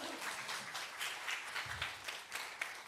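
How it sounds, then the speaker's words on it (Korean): A church congregation at a Friday night prayer meeting claps, a faint, loose patter of hands that rises and falls in small waves. "저한테 박수 한번 주세요"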